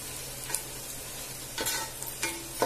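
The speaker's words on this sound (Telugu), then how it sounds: "ఇవి ఇంకొంచెం వేగాలి ఇంకొక ఐదు నిమిషాలు టైం పట్టదు ఇవి వేగడానికి" Vegetables for a veg pulao frying in a pan, giving a soft, steady sizzle with a few brief scraping stirs of a spoon against the pan, fairly quiet and close, with no talking.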